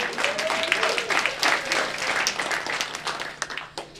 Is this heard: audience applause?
yes